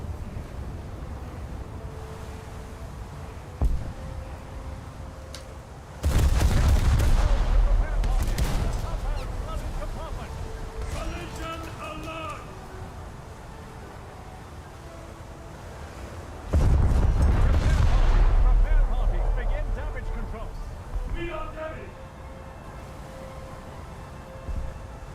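Battleship main guns thunder in a naval video game, with two massive, deep booming salvos about ten seconds apart, each rumbling and slowly fading over a low background of wind and sea.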